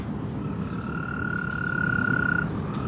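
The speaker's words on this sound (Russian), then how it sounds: "может быть жабы, может лягушки, они уже, вот их слышны звуки" Frogs or toads croaking in a flooded park after a downpour in Anapa, with one sustained nasal croaking trill over a dense, steady bed of chorusing calls, close and fairly loud.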